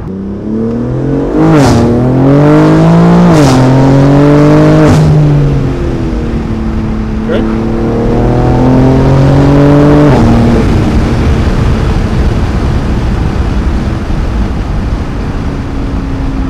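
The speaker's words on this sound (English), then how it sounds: "So this is the full race exhaust with stock downpipes." A BMW G80 M3 with a TFL Italy full race catback exhaust and stock downpipes revs loudly up close, rising through several sharp blips before settling into a sustained, droning high-rpm roar.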